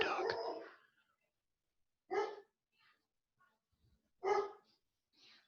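A dog barks in short bursts, one loud yelp at the start, then two sharp barks a couple of seconds apart with faint yips between, heard indoors during a lecture session.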